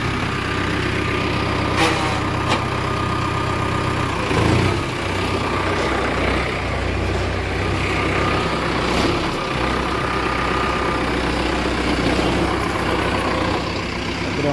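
A Mahindra Arjun Novo 605 or New Holland 3630 Special Edition tractor engine runs steadily, loud and close, with a continuous low rumble and faint rattles throughout, with no voices.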